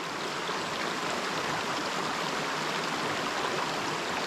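A flowing river rushes steadily, giving a broadband watery hiss with no pauses, close and constant and without voices.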